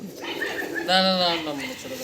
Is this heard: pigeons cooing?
yes